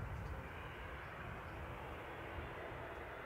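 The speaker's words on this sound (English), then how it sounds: "KLM's just starting its turn now." A KLM airliner turning on the ground at Manchester Airport gives a steady, broad jet engine roar at moderate distance, with no other sounds.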